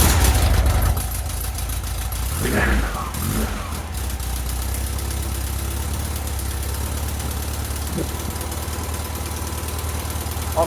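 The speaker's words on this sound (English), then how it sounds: "we'll start this engine up and we'll be able to hear ourselves think" A 1969 VW bus engine with a newly fitted exhaust cranks and fires, then settles into a steady, fairly quiet idle with a low even rumble that runs on alone.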